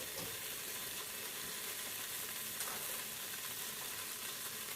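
Sausage meat sizzling steadily in the bowl of an Aicok electric multi-function pressure cooker, a dense continuous hiss and crackle of frying heard close up with no talking.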